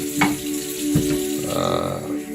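Rice and wheat flour dry-roast in a pan, giving a soft, continuous scraping and rustling with light stirring strokes and a faint crackle close by.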